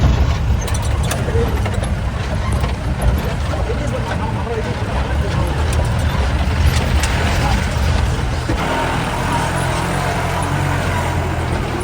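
A vehicle rumbles along an empty rocky offroad track in South India, a steady loud low engine and rolling-wheel rumble with rattling bumps, while people talk over it.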